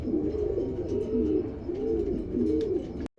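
Pigeons of a stencil Lahori breed cooing steadily nearby, low rolling coos repeating in a continuous rhythm, with no talking.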